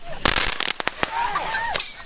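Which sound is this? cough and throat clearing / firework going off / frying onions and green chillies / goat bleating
firework going off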